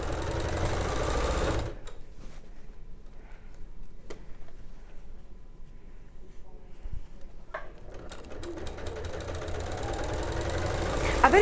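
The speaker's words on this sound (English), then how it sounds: "I always say this machine kind of sews for you." Sewing machine stitching an appliqué flower cushion, running steadily at close range, with a brief pause and a few small clicks before it picks up again.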